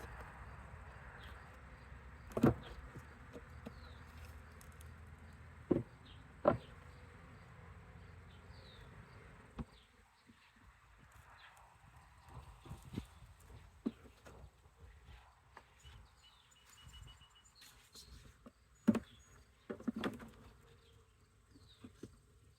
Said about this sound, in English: they definitely don't have enough bees in here